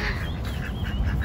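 Several ducks on Taylor's University Lakeside Campus quack in short, rapid bursts close by, against a broad outdoor wash.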